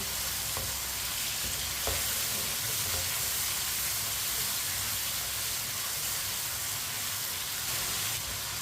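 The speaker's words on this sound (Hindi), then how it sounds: "टिंडों को भी 2 मिनट के लिए फ्राई कर लेंगे। चूल्हे की आंच को थोड़ा तेज रखना है, तेज आंच पे थोड़ा फ्राई करना है।" Tinda (apple gourd) frying over a high flame, a dense, even sizzle and hiss of hot oil that holds steady throughout, close and unbroken by speech.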